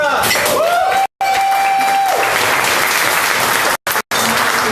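A crowd at a Long Island activists' meeting bursts into loud, sustained applause, dense clapping mixed with some cheering and voices talking over it, cut by a few brief dropouts.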